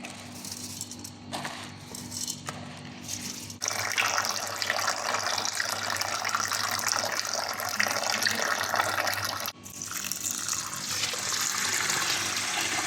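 Water pours from a tap into a pot for cooking pongal, a steady rushing stream that starts after a few brief splashes, stops briefly near the end, then resumes close by.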